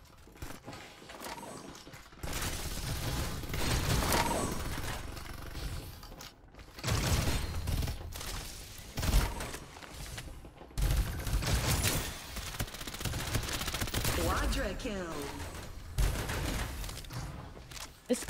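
Rapid bursts of gunfire in the game Farlight 84 crackle in fast volleys, with mechanical clicks and clatter between them, steady and fairly loud throughout.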